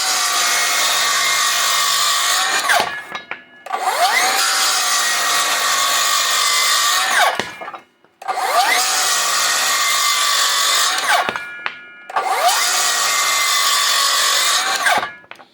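An older Skilsaw 77 worm-drive circular saw, its guard removed, rips through wood in four loud close passes of a few seconds each, whining and rasping, with short quiet gaps between cuts.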